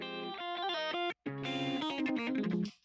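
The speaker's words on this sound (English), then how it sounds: "Then the distortion thing is really fun as well." A short prog hop musical phrase run through a gritty distortion effect, with buzzy, saturated tones, a brief cutout partway, then a harsher, fuzzier passage.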